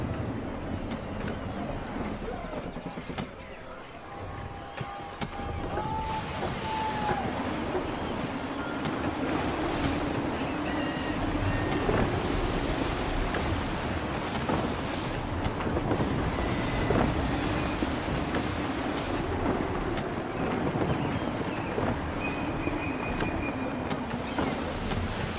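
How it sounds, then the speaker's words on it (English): Gusty wind and rolling ocean waves at sea aboard a sailing ship in Assassin's Creed 3, a steady roaring wash with surging gusts and occasional faint creaks, no voices. "Gusty winds can be difficult to manage."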